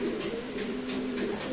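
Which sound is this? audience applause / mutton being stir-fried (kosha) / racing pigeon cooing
racing pigeon cooing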